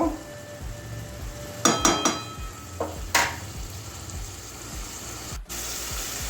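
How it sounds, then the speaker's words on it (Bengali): Soybean chunks sauté in a pan under a constant sizzle, while a spatula scrapes and knocks against the metal in several sharp strokes. "এটাকে দু তিন মিনিট কষিয়ে নেব"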